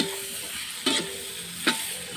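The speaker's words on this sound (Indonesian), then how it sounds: "Nah, ini bumbunya udah setengah matang, saya masukkan cabai hijaunya." Half-cooked spices and green chili are stirred and fried in a pan over a wood stove, a steady sizzle broken by two scraping stirs of the utensil, close and alone without talk.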